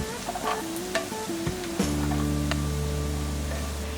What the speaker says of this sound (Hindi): दाल मिक्सचर को हमने फ्राई कर लिया है और ये ड्राई हो गया है।